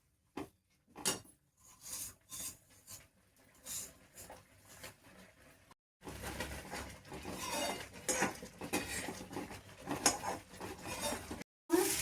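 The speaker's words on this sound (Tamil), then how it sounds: "தண்ணீர் நன்கு கொதித்து சேமியா வெந்தவுடன் கொஞ்சம் கொஞ்சமாக ரவையை போட்டு கட்டி தட்டாமல் கலரவும்" For Bombay rava upma, semolina is stirred into boiling water with vermicelli in a pot. Soft scraping and clattering come in intermittent spurts, then continue over a steady bubbling hiss.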